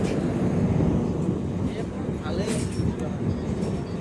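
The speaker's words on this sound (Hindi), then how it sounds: "यहाँ रुकी नहीं है हमारी ट्रेन, हल्की स्लो हो करके आगे बढ़ रही है" The Sairang–Guwahati Express rolls slowly forward with a steady low rumble and rattle of its carriages, heard close and continuous throughout.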